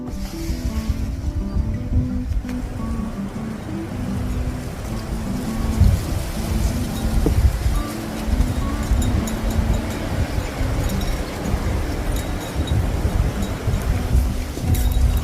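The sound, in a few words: strong wind blowing outside a tiny house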